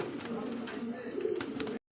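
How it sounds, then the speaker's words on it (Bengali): Bombay pigeons at a pigeon dealer's collection coo in soft, repeated throaty phrases nearby, with the sound breaking off abruptly just before the end. "এটা বোম্বাই কবুতর"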